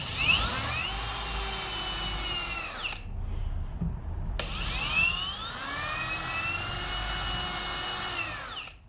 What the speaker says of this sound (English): I'm gonna make some pilot holes first because I don't want to split the wood.